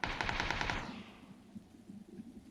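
Automatic gunfire from a machine gun in a video game, a rapid loud burst of evenly spaced shots for under a second, then tapering off into a quieter, grainy background rumble.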